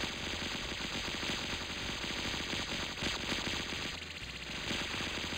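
Rapid, continuous machine-gun fire from the VASARA Collection shoot-'em-up arcade game: dense, evenly spaced bursts of shots rattling on steadily without pause, with no voices.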